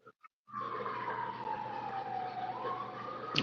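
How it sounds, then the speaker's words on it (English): A wailing emergency vehicle siren sounds through a neighborhood, rising in after a couple of short blips and holding a steady, moderately loud sweeping tone, with a brief sharp noise at the end. "We hear sirens"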